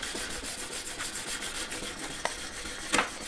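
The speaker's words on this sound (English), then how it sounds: "I'm happy to buff this up now" A buff stick polishes a chunky metal ring shank with steady rubbing strokes, a continuous close, soft sanding texture with a couple of sharper scrapes near the end.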